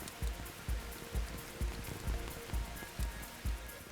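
Torrential rain pours steadily during a golf tournament, the Barclays Singapore Open 2006, with a dense wash of hiss broken by regular low thumps roughly every half second, close and fairly loud, with no talk.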